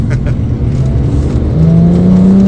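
A Porsche GT3 drones loudly at high revs with its exhaust valves open, a dense rumbling roar whose pitch climbs steadily toward the end.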